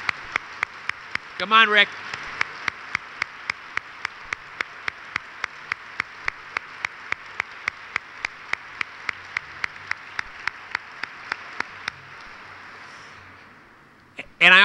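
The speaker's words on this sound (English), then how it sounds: "Let's give them all a round of applause" Audience applause during a HUD secretary's speech: a dense steady wash of clapping over evenly spaced sharp clicks through most of the stretch, with a voice calling out briefly near the start and the noise fading out near the end.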